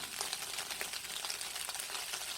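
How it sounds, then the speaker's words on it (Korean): Pressed tofu strips are stir-fried in a nonstick pan, a faint but continuous crackling sizzle with soft, irregular stirring scrapes and no voices. "물기가 더 나가도록 이렇게 볶아주면"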